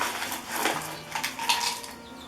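Gravel poured into a tube for a Satsuki azalea bonsai's exposed roots makes a close, clattering trickle of small stones, with bright rattling bursts rising and falling over a couple of seconds, no talking.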